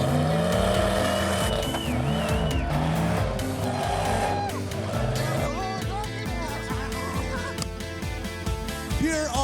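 An off-road rock-crawling rig at a 2019 Mountain Havoc rock course, engine revving hard and steadily as it pushes into a tire garden, loud and continuous with a busy background.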